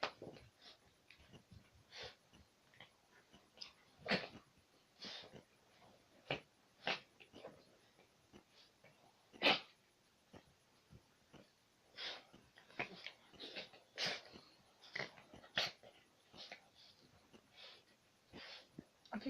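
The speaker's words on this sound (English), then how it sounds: "If you hear that weird panting noise in the back, that's her." A dog pants in the background, quiet rapid breathy bursts in irregular clusters, faint and close, with no voices.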